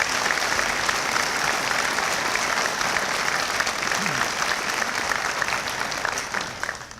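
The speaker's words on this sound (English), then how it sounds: "Please now acknowledge these individuals with your applause." Sustained applause from a commencement audience at a School of Dental Medicine graduation, a dense, steady wash of many hands clapping that holds evenly throughout and eases slightly at the end.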